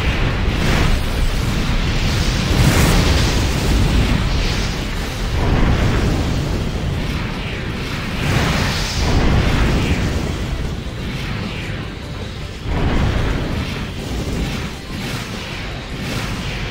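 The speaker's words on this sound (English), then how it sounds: "Ooh, nice nade." Video game grenade explosions: a series of loud, dense booming bursts with rumbling tails, several blasts recurring every few seconds over continuous game noise.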